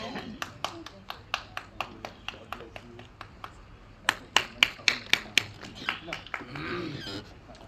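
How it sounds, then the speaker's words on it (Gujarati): Evenly spaced single claps ring out at a community gathering of the Gujarat Rawat Samaj, steady and rhythmic rather than a dense ovation, fairly close, with faint voices in the background. "જોરદાર તાળીઓ સાથે વધાવી લઈશું આપણે"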